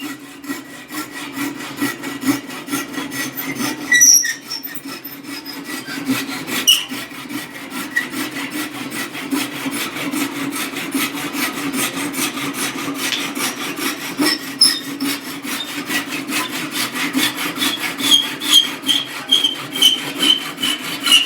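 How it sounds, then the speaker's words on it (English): A wooden wedge clamped in a vise is trimmed with a hand tool, giving steady, rapid rasping and sawing strokes that run evenly and up close, with a few sharper scrapes and no talking. "We're just shooting pieces of the wedge off."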